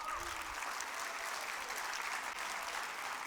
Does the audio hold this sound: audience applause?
yes